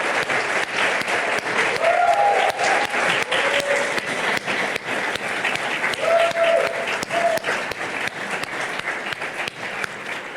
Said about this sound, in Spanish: Pues le damos un aplauso al Señor